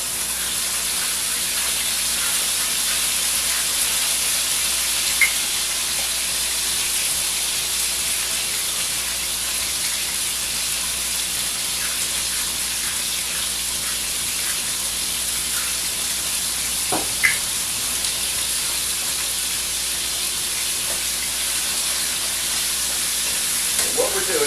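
Island ribs sizzle while browning in hot oil in a pan, a steady loud crackling hiss throughout with occasional faint pops, no speech.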